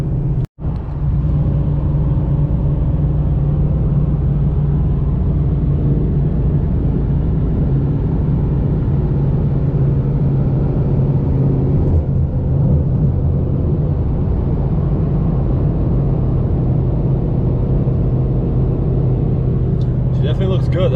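Inside a 2021 Honda Civic Type R cruising on the road, a loud, constant low engine and tire rumble fills the cabin without a break.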